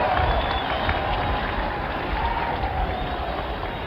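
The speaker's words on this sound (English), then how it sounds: "Cries of greeting and good wishes from the crowd." A large outdoor crowd at a presidential inauguration cheers and calls out greetings to the newly elected 35th President, a broad, steady roar of many voices sustained at an even level throughout.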